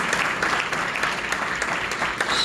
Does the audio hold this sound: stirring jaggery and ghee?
no